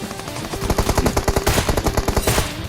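Rapid automatic gunfire in PUBG Mobile, a dense burst of close, loud shots repeating quickly for the whole stretch with no talking over it.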